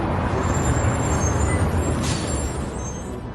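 A bus comes to a stop amid a constant roaring road noise, with a brief hissing burst of air brakes partway through.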